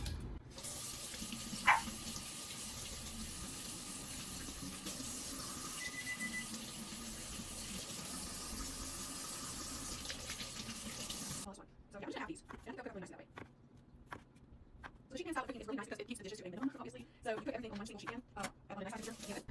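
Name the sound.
tap water running while washing red potatoes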